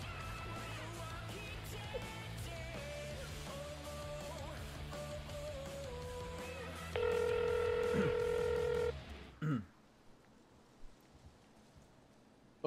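Phone call being placed, with tone patterns and then a steady ringback tone that stops abruptly near the end, set under a quiet bed of background speech.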